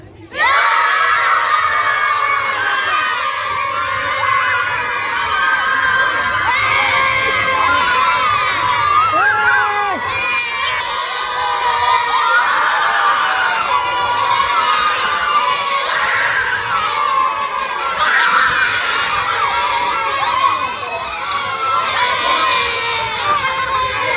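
Children shout and cheer loudly and continuously in a dense, lively crowd at Bahirinath's village fair in Belpada, awaiting the palanquin procession near a Bhavani temple; the excited voices stay steady throughout.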